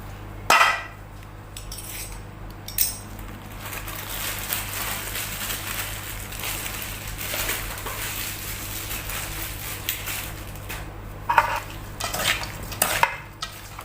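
Spicy Thai yam yai salad with quail eggs and dried shrimp being tossed and mixed, a steady close rustle of stirring with light clinks of utensil against the bowl, louder scrapes near the start and end, no talking.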